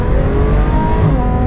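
A Ferrari F12 Berlinetta engine revs up close and loud, a brief steady growl with rising harmonic tones and no talk.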